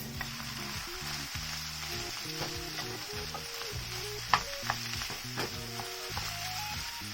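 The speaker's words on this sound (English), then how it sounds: "proceed by adding 500 grams of minced beef" Minced beef sizzling steadily in a pan with softened vegetables for a lasagna sauce, with a constant hiss broken by scraping stirs and a couple of sharp clinks.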